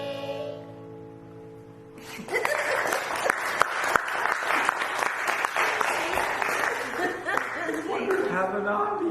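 Audience applause breaks out after a brief sustained tone and continues as dense, loud clapping with scattered chuckles and voices mixed in.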